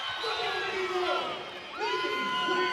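Volleyball fans of the Lopes crowd cheering and whooping in an arena during a women's college match, a sustained roar that dips briefly and swells again, with a commentator talking over it.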